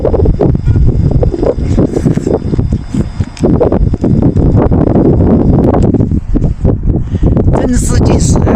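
Strong wind buffets the microphone at a riverside campsite in a windy canyon area, loud roaring gusts with rustling and flapping throughout, and a voice speaking over it.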